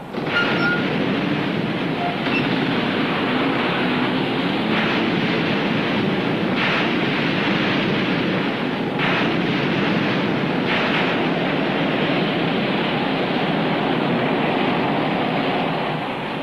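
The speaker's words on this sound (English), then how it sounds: "seas mount higher now, a force 10 gale with winds gusting up to 70 miles an hour" A constant roar of force 10 gale winds gusting to 70 miles an hour and heavy crashing sea, dense and unbroken, with occasional heavier surges of water throughout.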